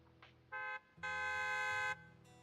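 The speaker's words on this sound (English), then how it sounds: "A loud honk echoes as several" A loud vehicle horn in a video game sounds in two blasts, a short honk followed by a longer sustained one, with a brief quieter tone before and after.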